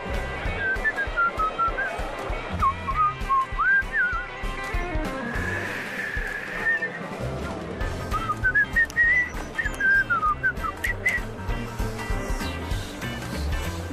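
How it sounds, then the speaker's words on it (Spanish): A person whistles a wavering, tuneful melody in two bursts separated by a short pause, close and fairly loud, with some shuffling and background noise around it. "¿Y silbar? ¿Saben silbar?"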